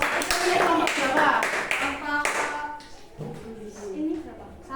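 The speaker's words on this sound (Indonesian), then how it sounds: "tepuk tangan untuk kelompok 3." Classroom clapping for a student group: a short burst of hand claps near the start, fading after about two seconds, followed by voices talking.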